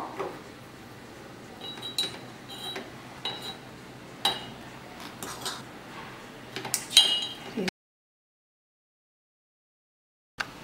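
Amla pickle spooned into a clean glass bottle in a kitchen, a series of sharp clinks and taps of metal on glass at irregular intervals, near and moderately loud, followed by a silent gap and one last tap.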